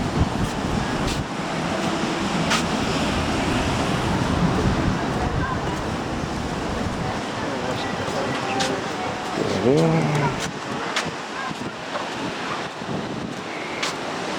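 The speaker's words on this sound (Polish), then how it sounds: "no i tak wygląda plaża Września" Baltic surf washes onto the beach at Brzeźno in Gdańsk as a steady, broad roar mixed with gusting wind against the microphone, while a person talks over it nearby.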